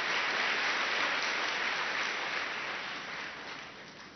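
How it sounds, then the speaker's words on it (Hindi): Steady audience applause fills a hall at a spiritual talk, dense and continuous clapping that gradually fades toward the end, with no speech over it. "ताली बजाओ फिर तो।"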